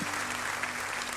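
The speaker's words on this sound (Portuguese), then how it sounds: "Pode aplaudir ao Senhor mais uma vez," A congregation at a Curitiba Baptist church applauds during an evening service, a soft, distant, even patter of many hands with a low steady hum beneath.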